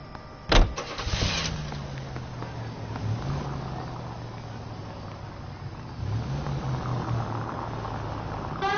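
A car in the L.A. Noire video game starts with a sharp thump and a brief whir, then its engine hums at a steady low idle while driving, shifting pitch slightly a few times.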